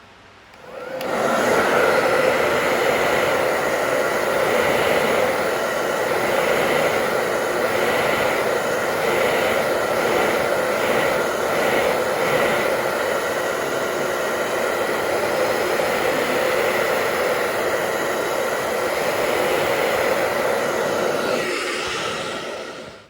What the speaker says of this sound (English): a heat gun, or in my case a hair dryer